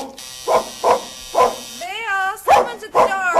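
A dog barks in an old radio drama, a series of loud close barks in a steady rhythm, joined midway by a whining, whimpering cry with more barking after.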